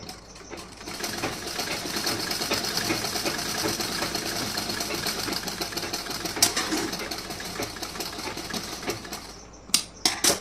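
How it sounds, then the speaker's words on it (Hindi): Sewing machine running continuously while stitching a blouse, a steady, fast mechanical rattle held close and loud for about ten seconds, ending with a few sharp clicks as it stops. "अब यहाँ पे हमें करना है स्टिचिंग"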